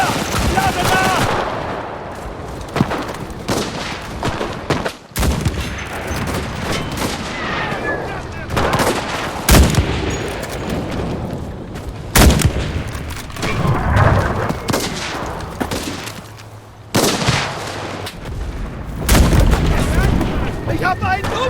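Dense gunfire in the World War II shooter Enlisted, fought in a forest: rapid bursts and single loud shots crack over a constant battlefield rumble, with occasional heavy booms throughout.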